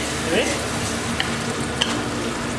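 Spiced masala for a sesame chicken curry frying in a pan over a medium flame, a short burst of close, steady sizzling with a couple of light stirring clicks.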